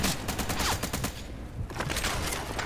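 Rapid bursts of gunfire, including shotgun blasts, crackle in a video game firefight, loud and dense with several volleys overlapping and a brief lull midway.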